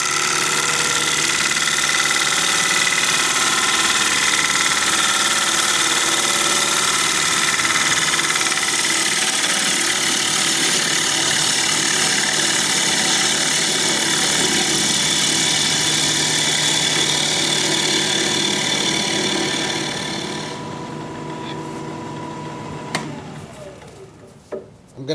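A gouge cuts an alder live-edge bowl spinning on a wood lathe, making a loud, continuous whirring scrape that fades as the cut stops near the end, leaving quieter motor hum and a few knocks.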